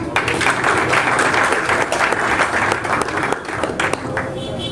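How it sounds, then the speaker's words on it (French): An audience applauds at a poetry reading event, a steady wash of many hands clapping together, loud and sustained throughout with some voices mixed in. "une fois de plus, les applaudissements"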